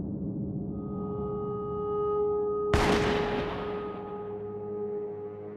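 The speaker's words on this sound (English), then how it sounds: "Those shots just now were 22 caliber." A single sharp 22-caliber gunshot cracks out in the MadWorld video game, cutting through a steady droning hum and trailing off in a fading echo.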